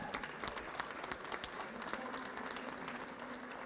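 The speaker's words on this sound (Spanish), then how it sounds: "Un aplauso." Applause from an audience at an event marking 100 years of radio in Nuevo León, a steady wash of many hands clapping, moderately distant and continuous.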